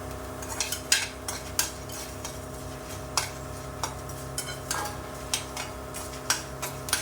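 Red chillies fry in a little oil with a pinch of asafoetida, giving a steady soft sizzle while a utensil stirs them with repeated light scraping clicks against the pan.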